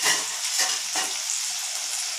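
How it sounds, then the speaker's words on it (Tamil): Brinjal and drumstick sautéing in a pan, bright close frying hiss with a few soft stirring scrapes over a short stretch. "எல்லாம் நல்லா வதக்கிக்கலாம்"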